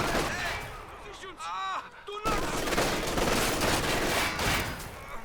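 Gunfire in the strategy video game Company of Heroes 2, dense bursts of rifle and machine-gun shots with explosive booms as two squads attack from different angles, loud and continuous, with a game voice line partway through.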